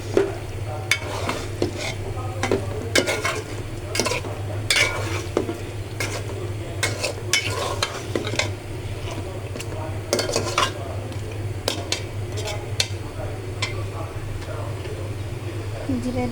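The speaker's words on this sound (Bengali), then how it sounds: "নেড়ে চেড়ে মশলাটা মিশিয়ে নেব মাংসর সাথে" Beef being stirred with spices in a hot pan, steady sizzling under repeated scrapes and clinks of a utensil against the metal, with a constant low hum in the background.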